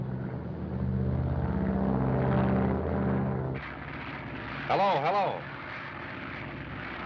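A propeller airplane drones steadily in flight, a droning engine hum running throughout, with a voice speaking over it partway through.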